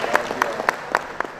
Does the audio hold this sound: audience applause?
yes